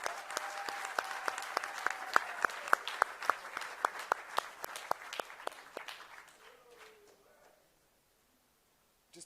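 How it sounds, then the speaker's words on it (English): Applause at a national orders award ceremony, with sharp individual claps standing out in a slow rhythm. The clapping thins and fades out completely after about seven seconds, leaving near silence, with a faint murmur of voices beneath it. "can we give a big round of applause to all our esteemed members of the national orders?"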